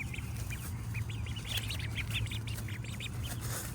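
Young turkeys and backyard chickens calling together, a string of soft, rapid peeps and chirps scattered over steady background noise, fairly close and continuous.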